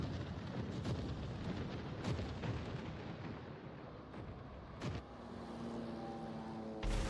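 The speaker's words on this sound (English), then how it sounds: "so I get my guns on him and send out the salvo" Heavy naval gun salvo from a Sinop battleship in World of Warships, booming blasts near 0, 2 and 5 seconds and again at the end over a constant rumbling engine and sea bed.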